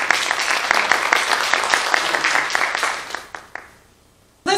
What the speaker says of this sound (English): So we have our winner, contestant number three.